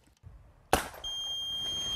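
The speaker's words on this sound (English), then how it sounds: "This beeping sound tells me I was just attacked by an enemy combatant." A sharp bang is followed a moment later by a steady, high-pitched electronic beep from a MILES laser combat training hit sensor that keeps sounding continuously.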